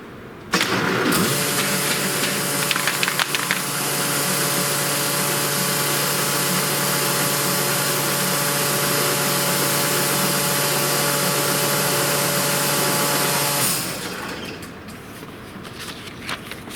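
A paper folding machine runs a job, starting abruptly and holding a steady, loud mechanical whir with a constant drone for about thirteen seconds before spinning down, with no talking.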